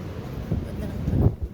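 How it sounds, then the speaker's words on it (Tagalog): Strong wind buffets a microphone on a balcony, a steady low roaring rumble that swells and surges toward the end, close and loud. "So windy."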